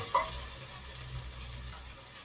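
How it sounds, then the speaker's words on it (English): Food sautéing in a casserole pot and being stirred, a steady low sizzle with a brief scrape of the spoon near the start, close and fairly quiet, no talk. "I am putting straight away into my casserole, because I want to make it sauté"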